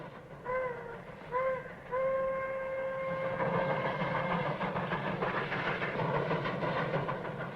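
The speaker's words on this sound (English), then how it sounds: "Smokestack's rolling that train." A steam train whistle sounds in two short blasts, then a long one, followed by the loud, steady chugging and rumble of the train running nearby.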